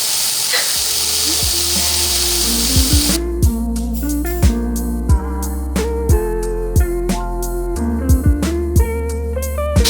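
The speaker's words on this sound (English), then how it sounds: "putting it in the pan. Ooh, hear that sizzle." Loud, steady sizzling of lean ground pork frying in a hot pan, with occasional sharp clicks and taps over the continuous crackle.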